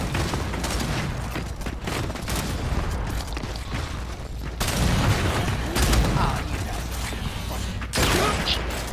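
Gears 5 sniper battle gunfire: dense mechanical clatter and cracks, with heavier bursts of shots punching in around the midpoint and near the end, loud and close over an ongoing busy game mix.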